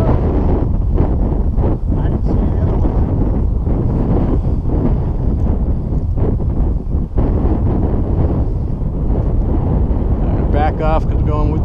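Strong wind blasting across the microphone outdoors, a loud continuous roar and buffet, with voices of people talking partly buried beneath it.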